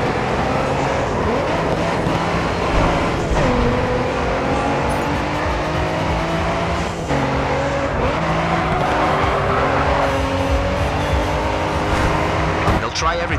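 Race cars in the GRID 2 video game roar past with rising and falling engine pitch and tires squealing through corners, loud and continuous, while a voice speaks over the racing.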